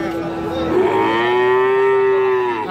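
A Friesian cross-breed bull calf gives one long, loud, close moo at a cattle market in Parbatipur, Dinajpur.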